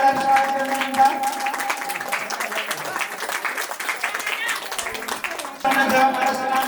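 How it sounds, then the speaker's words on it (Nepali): Audience applause at an annual temple kirtan group honors program, sustained clapping from a crowd across the whole stretch, with a brief dip near the end before the clapping swells again and voices murmur underneath. "सम्मानित हुँदै हुनुहुन्छ उहाँले गरेर ताली बजाएर स्वागत गर्नुहुन्छ।"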